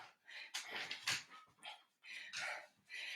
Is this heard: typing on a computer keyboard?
no